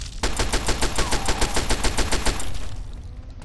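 Rapid automatic gunfire in a modded Fallout 3, a loud, close burst of roughly fourteen evenly spaced shots in quick succession, ending abruptly and leaving a fading ringing tail.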